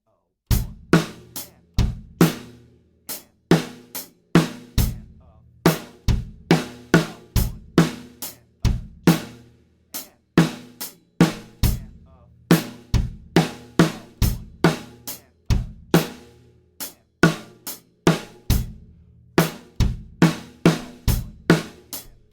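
A drum kit plays a steady beat mixing eighth and sixteenth notes in a beginner drum lesson, with sharp, evenly spaced hits of varied loudness repeating in a regular rhythm, played alone and close.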